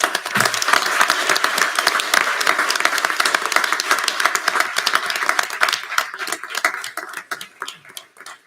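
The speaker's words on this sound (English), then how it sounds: "please join me in giving them a round of applause" An audience at a St. Cloud, Florida city council meeting applauds young authors, a crowd of clapping hands that starts dense and gradually thins into scattered individual claps as it winds down.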